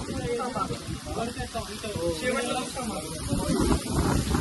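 Heavy monsoon rain pours down on a mountain trek at Harishchandragad, a dense, hissing wash of drops close by, with voices faintly talking under the downpour.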